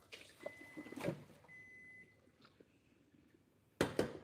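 A kitchen timer beeps in a home kitchen during mac and cheese preparation, giving two faint, steady electronic tones with clattering kitchen noises around them.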